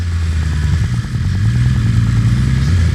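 Steady, loud engine drone from a BMW S1000RR sport motorcycle while riding, a low continuous rumble with slight throttle variation throughout, no talking.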